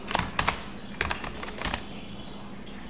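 Bursts of keystrokes on a computer keyboard, close and fairly crisp, arriving in short irregular clusters of quick taps with brief pauses between them in a quiet room.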